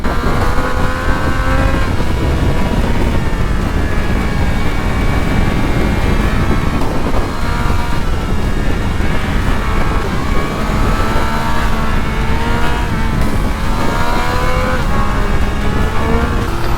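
A Triumph Speed Triple RS 1200 motorcycle engine revs and roars continuously, rising and falling in pitch through several throttle bursts, loud and close.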